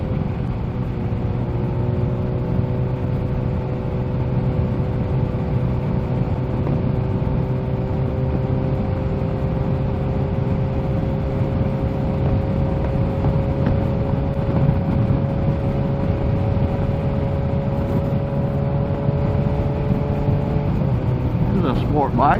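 A Kawasaki ZH2 sport motorcycle on the road, with a steady, loud engine drone and heavy wind rush that hold throughout at a constant pitch. A rider talks over it.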